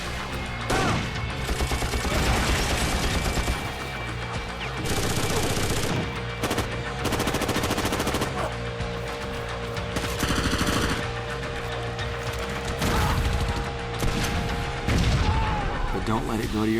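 Gunfire from an Xbox video game demo: dense bursts of machine-gun fire and booming blasts over music, with a narrator talking throughout.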